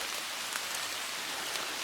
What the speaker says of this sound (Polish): nagrywam szybko, bo zaczęło kropić